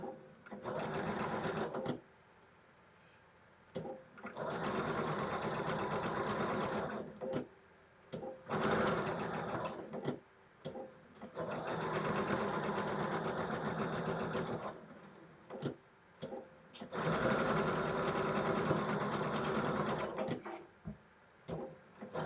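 Close, steady whirring of a sewing machine stitching a quilt block seam, in three long runs of several seconds each separated by short pauses.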